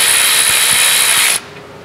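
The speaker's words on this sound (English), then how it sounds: "Make sure that the wrench is loud as possible." An E12 ratchet wrench tightens the exhaust catalytic converter brackets on a 2021 Porsche 992 Turbo, giving a loud, fast, continuous clicking rattle up close that stops abruptly, leaving a quiet hum.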